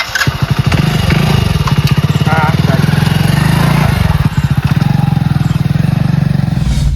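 A new motorcycle's engine runs loud and close with a fast, even putter that holds steady across the whole stretch, and a voice is briefly heard over it.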